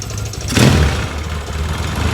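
A 1978 Yamaha XS650 motorcycle, just out of winter storage, holds a rough, close engine idle with a brief swell in revs partway through, then settles to a steady low chug.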